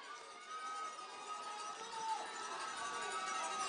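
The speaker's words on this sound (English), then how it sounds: "Crowd making noise." At a high school football game, a distant crowd keeps up a steady, faint roar and murmur in the stands, with no single shout standing out.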